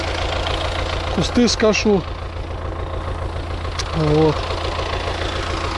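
A tractor engine runs steadily through the whole clip during haymaking on a hot summer day, a constant low drone with someone talking briefly over it.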